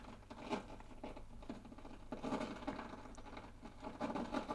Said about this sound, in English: It's a very old record, it's a bit scratchy.